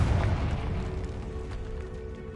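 Deep, rumbling boom of the Confringo explosion spell in Hogwarts Legacy inside a decaying catacomb, a heavy low-end blast that fades slowly across the clip, loud and close with no voices.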